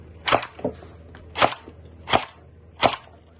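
Four sharp, snappy shots from an AK-74 airsoft rifle fire at uneven intervals, close and crisp, with a fainter click between the first two and quiet in between.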